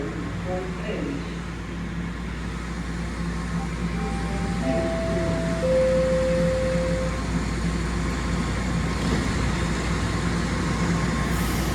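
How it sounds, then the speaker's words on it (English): A Toronto TTC subway train rumbles steadily into Glencairn Station northbound, with a low continuous drone, a brief rising whine, and faint voices in the background. "And now a northbound train's rolling in."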